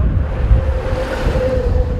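Strong wind roars steadily across the microphone during a desert rally stage, a continuous low rumbling buffet with a faint tonal hum underneath.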